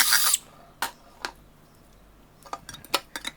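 A powder tin is punched with gas holes while making a DIY portable biomass camping stove, giving a few sharp metallic clicks and taps spread irregularly across a few seconds, close and fairly crisp.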